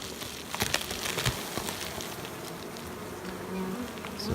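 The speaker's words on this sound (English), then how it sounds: "So this top box is right full of bees." Honey bees buzz densely in a hive box packed full for queen rearing, a close, continuous droning swarm with scattered ticks and taps of frames and wood.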